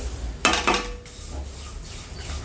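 Coconut, sesame and peanuts are stirred and roasted in a pan for garlic chutney, giving a short scraping, rubbing burst of about half a second, then quieter low background.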